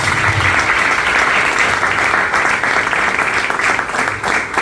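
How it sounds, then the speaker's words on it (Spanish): Loud, sustained applause from a church congregation, dense and continuous clapping throughout. "Den un aplauso al Señor."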